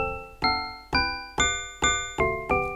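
Six bright chords from a modular synth, randomly picked from the Dorian scale, strike one after another at an even pace, each changing pitch and decaying quickly, with no other sounds.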